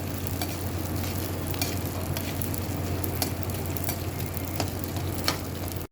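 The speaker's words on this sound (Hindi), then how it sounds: "गरम गरम घी में ही फ्राई करना चाहिए तो अच्छा होता है" Ingredients fry steadily in hot ghee for a homemade panjiri, a continuous close sizzle with occasional sharper crackles and faint stirring, no voices.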